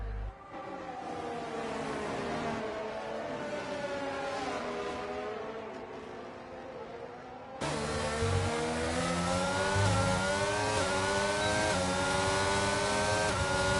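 Race cars in a racing video game roar along in a steady, loud engine drone with shifting pitch, which jumps louder partway through as the cars keep racing, with no talking.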